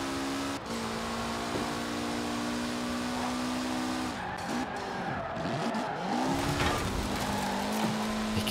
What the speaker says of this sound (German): wie du den Wagen halt wirklich einfach in die Kurve reinschmeißen kannst, mit der Garantie, dass er da rumkommt